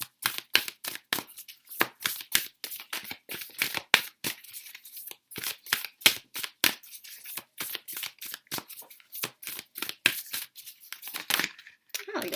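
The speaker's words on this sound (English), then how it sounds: "I'm going to shuffle this one out live for you" Rapid papery riffling of a deck of oracle cards being shuffled, repeated quick bursts close to the listener, no talking.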